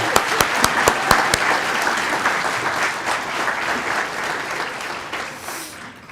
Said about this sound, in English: Let's applaud those